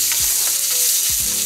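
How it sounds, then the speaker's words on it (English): Onions sautéing in a pan for smothered pork steak, a loud, steady hiss of frying heard up close, with a couple of brief low thumps from stirring. "I'm just going to put some onions in here. I let them saute."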